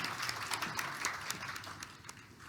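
A symposium audience applauds to welcome a speaker and moderator, a steady wash of many hands clapping that holds at an even level for the whole stretch with no talk over it.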